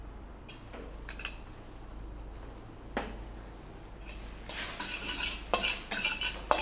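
Finely chopped garlic sautés over low flame in a little oil in a professional kitchen, a soft sizzle broken by scraping stirs and clinks of a spoon against the pan, busier and louder toward the end.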